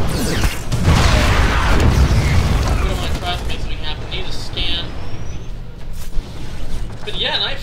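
Heavy booming blasts from a sieged tank in a StarCraft II match, deep low-end explosions mixed with game effects under continuous excited commentary.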